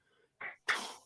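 A single human sneeze, short and sharp, preceded by a brief intake of breath, close and fairly loud in a quiet room.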